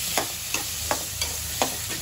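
Onions and tomatoes sautéing in hot oil, an even sizzle under four or five crisp spatula scrapes spaced roughly every third of a second, close and moderately loud.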